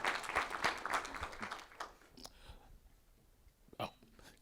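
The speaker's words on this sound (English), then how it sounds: "Y'all give him a round of applause." An audience at a leadership talk applauds a sheriff candidate; dense clapping is strongest at the start and then thins and fades, with voices talking underneath.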